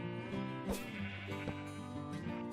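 Sheep bleat in Minecraft on a wool farm, several overlapping bleats over a steady game music backdrop, moderately loud and without talk.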